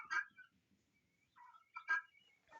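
Guinea fowl kept with chickens give sharp, harsh calls in short bursts, two loud clusters with quieter chatter and a late call, fairly close against a quiet background.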